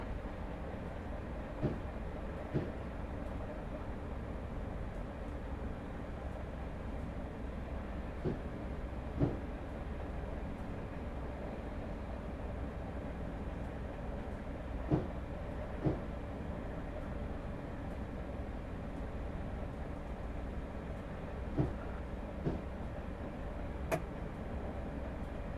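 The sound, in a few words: Class 313 EMU train running on rails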